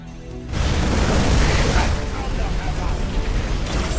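Banshee air strike explosions in a StarCraft 2 co-op match, a sudden heavy boom that rolls into a sustained, noisy rumble of blasts lasting several seconds, loud and close.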